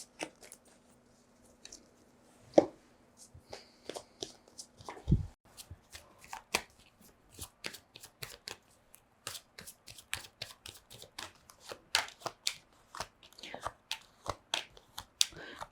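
Playing cards are shuffled during a tarot-style card reading, giving a run of quick crisp riffling flicks that thicken into dense rapid bursts, close and fairly soft, with a couple of sharper knocks early on and no voices.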